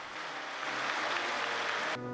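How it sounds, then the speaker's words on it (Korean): A crowd in a cathedral applauds and cheers after a priest ordination, a dense, continuous wash of clapping that fills the reverberant space and then stops abruptly. "성전은 박수와 환호로 가득 찼습니다"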